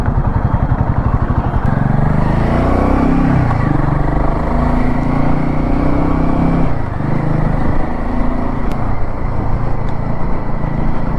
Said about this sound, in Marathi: आणि खूप ट्रॅफिक आहे बघा.